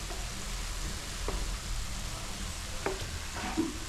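Tomato pieces fry in oil for chutney with a soft, continuous sizzle, broken by a few faint clinks of stirring, quiet and close with no voices.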